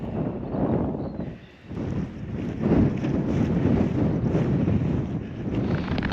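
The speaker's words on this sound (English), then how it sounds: "Really windy, so I hope the wind muff thingy is doing its job." Strong wind buffets the microphone on the summit of Great Cockup, a Lake District fell north of Skiddaw, a loud continuous low roar with gusts swelling and dipping, no voices.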